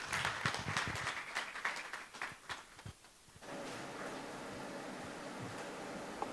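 Awards launch audience applause: a few seconds of loose, irregular clapping that thins out abruptly, followed by steady background room noise.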